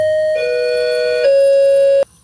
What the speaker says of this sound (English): For our audience, that doorbell was the AC repairman